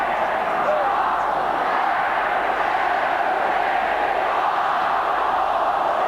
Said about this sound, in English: The crowd counting down the last 5 seconds.